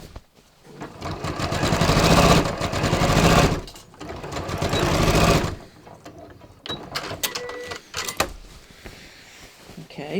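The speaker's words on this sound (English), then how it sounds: "Now let's go in the front and just sew these little darts." A sewing machine stitches darts in a jeans waistband, running in two loud, sustained whirring bursts, then stopping and giving way to quieter handling clicks and rustles.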